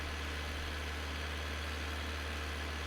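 A loud tractor engine in Farming Simulator 19 idles steadily, a deep, constant rumble with mechanical vibration and no breaks.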